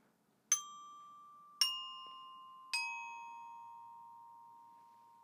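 Three hand bells struck one after another, sounding mi, re, do in a descending pattern, each a clear bright ding with a long ringing decay, alone in quiet.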